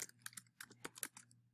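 Quiet computer keyboard typing while list entries are entered during Python coding, a steady run of about a dozen soft, close key clicks in quick, uneven rhythm with no talking.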